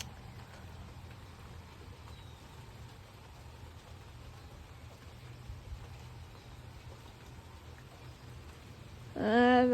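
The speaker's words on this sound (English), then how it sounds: "We're just getting wind and rain." Steady wind and rain pour down outdoors as a constant broadband hiss throughout, with a brief louder burst of some other sound right at the end.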